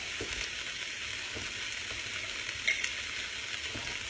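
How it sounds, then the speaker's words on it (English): White onion frying in oil in a pan for a shrimp stir-fry, giving a steady, close sizzle with faint crackles and a couple of small pops, no talking. "now that I got that cooking and I can see my white onion start to get a little translucent"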